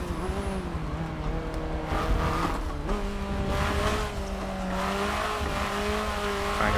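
Race car engine in a racing video game, revving steadily with rising and falling pitch as gears shift and throttle eases off and back on, loud and close throughout, no talking.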